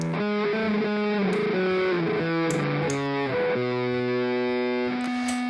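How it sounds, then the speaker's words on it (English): A distorted electric guitar plays a heavily overdriven solo, sustained bending notes stepping through a melodic line, loud and upfront over a steady backing. "the guitar solo. It's just me playing with a lot of distortion"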